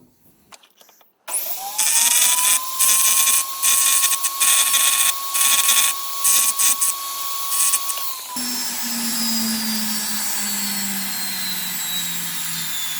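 A rotary tool scumbles a random pattern of cells into a metal workpiece, starting after a short quiet lead-in with a loud steady high whine that pulses in short bursts, then a lower continuous whir winding down at the end.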